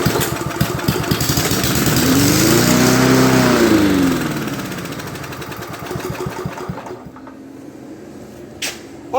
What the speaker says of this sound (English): squirt a little ether in there and see if it'll crank up